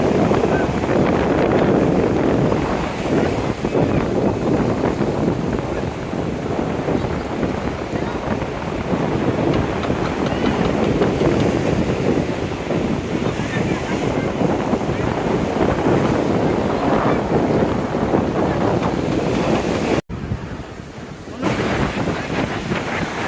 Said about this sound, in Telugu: ఫైనల్లీ బీచ్ దగ్గరికి అయితే వచ్చేసాను